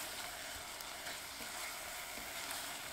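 Sauce simmers and sizzles around braised king oyster mushrooms in a pan, a steady close hiss without pause and no voices.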